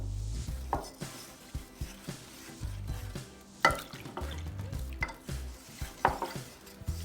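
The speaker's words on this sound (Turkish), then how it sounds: "Böyle yavaş yavaş karıştıralım" A spoon slowly stirs milk into a mixture in a bowl, giving soft repeated scrapes and taps at an unhurried, uneven pace, fairly close and quiet, with no voices.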